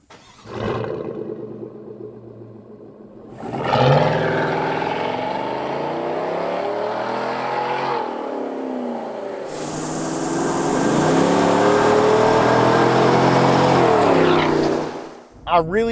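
A Chevrolet Silverado pickup with an aftermarket Corsa exhaust accelerates hard in two long pulls, its loud throaty engine note rising and falling with gear changes, close and continuous with no talk.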